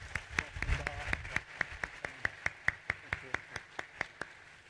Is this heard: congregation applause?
yes